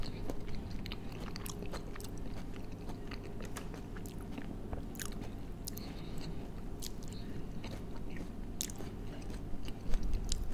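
Fast biting and chewing of cafe fast food such as wings, mini cheburek pastries, cheese nuggets and a salami-cheese bread sandwich, close and steady with scattered crunchy bites over low room hum.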